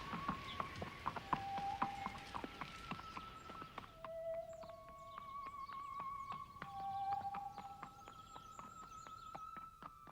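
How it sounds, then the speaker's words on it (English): Steady clip-clop of horse hooves on a hard surface, a regular walking rhythm at moderate distance, with faint tonal sounds in the background. "But what about the horse, Christina?"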